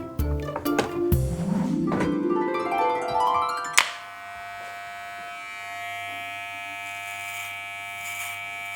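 A close electric motor buzzes and whines from a vibrating arm, its pitch shifting as it starts up, then settles into a steady high hum after a sharp click.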